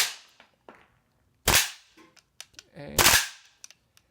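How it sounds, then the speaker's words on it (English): A WE XM177 gas blowback airsoft rifle fires during a dust test, with two sharp, loud cracks about a second and a half apart, plus a few smaller clicks and clacks of the bolt between them. "So I'm going to hold the bolt, stop down, and fire it and see if it locks back at least."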